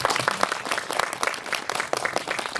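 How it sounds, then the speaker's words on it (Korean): Audience applause at a film screening Q&A in a small independent cinema, dense sustained clapping from a seated crowd filling the space at close range, with no talk over it. "박수 보내주세요."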